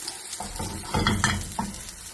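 Tapioca pockets fry in oil with a close, crackling sizzle, broken by a few louder stirring and scraping movements in the pan, with no voices.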